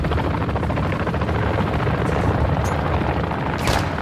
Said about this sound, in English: chopper, chopper, chopper, chopper.